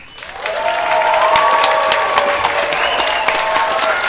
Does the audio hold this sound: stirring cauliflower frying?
no